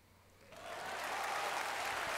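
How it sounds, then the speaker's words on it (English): Applause in the video game Steins;Gate 0 swells in after a quiet first half-second, becoming a steady, dense wash of many hands clapping that stays loud to the end. "There was a huge wave of applause."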